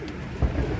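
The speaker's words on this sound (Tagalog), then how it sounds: "Mga ibon natin ito, gusto na kagad bumaba" Pigeons coo in a low, soft, rounded call that rises once, close by, against quiet background noise, with no talking.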